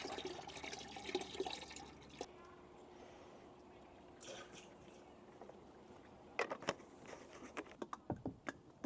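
Fluid draining from a John Deere 4 Series compact tractor, a faint steady trickle of liquid running out with intermittent drips and small clinks, quiet and close.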